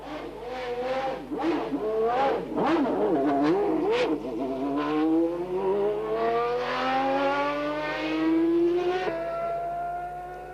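A 1990 Formula 1 car with an uprated V12 engine at Silverstone screams through repeated revs and gear changes, then climbs in a long, loud accelerating wail, close and alone without talk.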